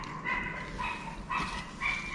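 A Rottweiler barks several times at a moderate distance, short yelping barks spaced across a steady background hum in an upland rural setting.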